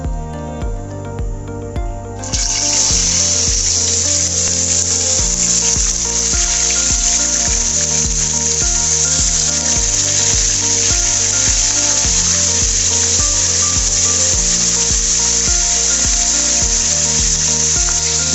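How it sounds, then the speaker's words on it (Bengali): Rupchanda fish dropped into hot mustard oil sets off a loud, steady sizzle and crackle that jumps up suddenly and holds unbroken, with no talking. "তেলটা এখন গরম হয়ে গেছে, এখন আমি মাছগুলোকে ছেড়ে দেব।"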